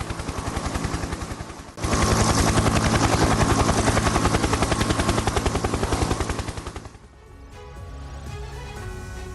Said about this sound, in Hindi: K-52 हेलीकॉप्टर से विध्वंसक हमले की तस्वीरें आप इस वक्त स्क्रीन पर देख रहे हैं।